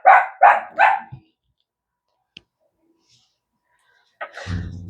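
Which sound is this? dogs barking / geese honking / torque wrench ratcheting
dogs barking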